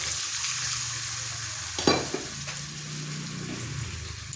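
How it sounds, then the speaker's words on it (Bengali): Water splashes into a pan of sizzling tomato masala, a sharp hiss bursting up over the steady frying, then settling back to a low, continuous sizzle with a few soft scrapes, close and alone. "এখানে সামান্য একটু জল দিয়ে দিচ্ছি।"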